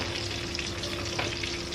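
Garlic sautés in a hot pan with coconut milk, ginger and chili nearby, a dense steady sizzle and crackle of frying close up, with faint stirring scrapes and no talk.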